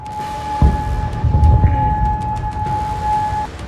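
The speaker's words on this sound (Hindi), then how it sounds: "बहरीन में सुबह से ही मिसाइल अलर्ट के सायरन गूंज रहे हैं।" A missile alert siren sounds in Bahrain. It is a steady, sustained tone heard from a distance over rumbling background noise and low thuds.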